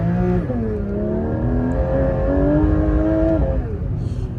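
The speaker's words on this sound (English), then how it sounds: "this car is so loud, although it's stock" A stock Porsche 992 GT3 RS engine climbs and falls through several gear-like sweeps, loud and close, with a steady roar throughout and no talking.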